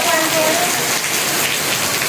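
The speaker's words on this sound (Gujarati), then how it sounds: "તો ફૂલ વરસાદ ચાલુ છે ભાઈ" Heavy monsoon rain pouring down outdoors, a dense, loud, continuous hiss of drops pattering on surfaces close by, with no talk.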